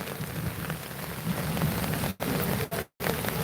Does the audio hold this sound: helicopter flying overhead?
no